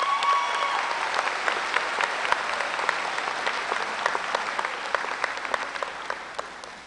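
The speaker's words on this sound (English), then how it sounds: "Please give a round of applause for our faculty." Steady applause from a large crowd at a high school graduation, many hands clapping continuously at moderate volume, with no voices standing out.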